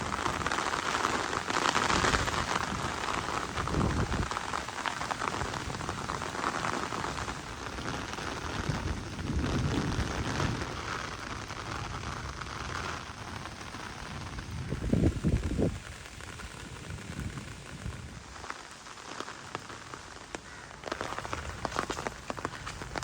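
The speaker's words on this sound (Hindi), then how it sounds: "अभी बारिश हो रही है ना" Steady rain pours on a mud house in a Punjab village, a dense continuous hiss with scattered heavier drips and splashes, loud and close throughout with no one talking.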